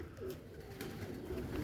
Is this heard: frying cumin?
no